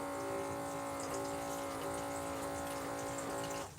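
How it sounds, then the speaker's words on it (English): Water pours steadily into a drink bottle for several seconds, a continuous filling rush with a faint rising tone, stopping just before the end. "Let me just put some water in here"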